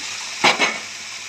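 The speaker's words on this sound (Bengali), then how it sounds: "আমি এখন এর উপরে মাংসটা দিয়ে দেবো, খাসির মাংসটা দিয়ে দিলাম।" Goat meat dropped into hot oil and spices gives a brief loud double burst of sizzling against a steady background hiss, close by.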